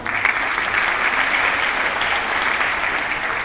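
A large audience at a national function against untouchability claps in honour of the people just praised, producing a loud, continuous wash of dense applause with an even level from start to finish.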